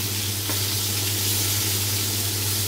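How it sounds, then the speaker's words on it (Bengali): Rui fish frying in a pan, a steady close sizzle with a low hum under it, continuing without pause and without any voices. "সুন্দর হয়েছে তো মাছ ভাজা।"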